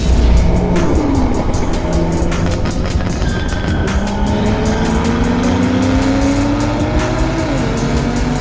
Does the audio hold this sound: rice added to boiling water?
no